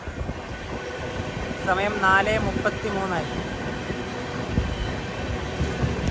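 An express train from Bhavnagar rolls into Payyanur railway station in Kerala: a loud, continuous rumble of wheels and coaches with a wavering horn-like tone midway, while a voice briefly speaks over it.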